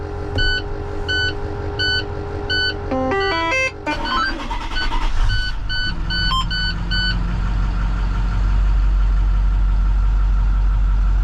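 A plow truck engine with a flashing check engine light turns over and settles into a steady low idle, with repeated electronic beeps chiming at the start.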